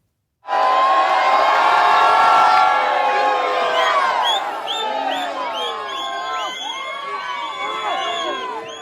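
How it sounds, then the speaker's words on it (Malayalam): Loud crowd cheering and whooping with children shouting as the Eastern team's Veeyapuram Chundan snake boat is launched for the Nehru Trophy boat race, a dense roar that stays sustained throughout, easing slightly into layered shouts. "ആർപ്പുവിളികളുടെ ആരവത്തോടെയാണ് ഈസ്റ്റേൺ വിയപുരം ചുണ്ടൻ നീരണിഞ്ഞത്"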